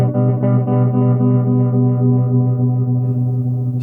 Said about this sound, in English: Let's try tremolo. It works on similar parameters and sounds really good with some delay.